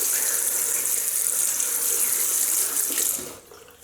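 Water runs steadily from a bathroom tap into a sink while a Merkur Futur double-edge safety razor is rinsed, a continuous close hiss that tapers off near the end.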